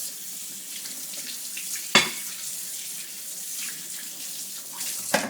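Tap water runs steadily into a sink while hands and a plate are rinsed, a constant hiss with a sharp clatter near the two-second mark and another knock at the end.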